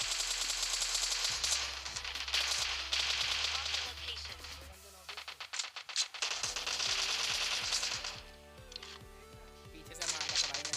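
Rapid bursts of gunfire from the mobile game PUBG crackle in quick volleys, broken by short pauses, over steady game music and background noise.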